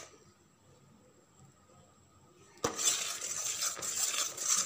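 A spoon scraping and stirring semolina into melted jaggery in a pan for rava laddu: quiet at first, then a sudden steady gritty scraping and clinking that continues loud and close to the end.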